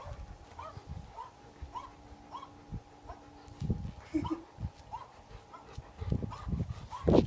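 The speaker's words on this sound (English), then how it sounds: "dog barking noises" Recorded dog barking played back through a speaker to a dog: a series of repeated barks at a moderate level, some thumps and shuffling nearby, and a faint steady electronic tone underneath.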